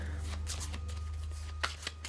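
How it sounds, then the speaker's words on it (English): Board game cards for a Resident Evil 3 solo campaign are shuffled by hand close to the mic, giving a quick run of soft riffling bursts and flicks over a low steady hum, with no talking. "We need to shuffle these again."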